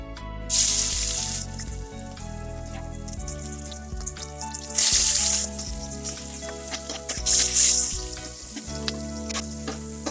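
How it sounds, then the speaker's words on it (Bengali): Prawns sizzle in hot oil in a few loud bursts that rise and fade, with steady background music playing underneath. "চিংড়ি মাছগুলো আমি এক সাইডে করে দিচ্ছি ভেজে।"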